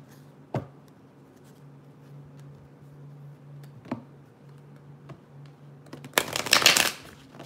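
Soft card shuffling with a few sharp taps and riffles, ending in a brief loud flurry of shuffled cards near the close.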